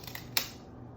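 A single quick snip of scissors trims the edge of a photo for a scrapbook page, a short crisp cut in an otherwise quiet room.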